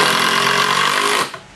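A power drill drives screws into a wooden shooting rack, one steady loud whir lasting over a second before winding down and stopping.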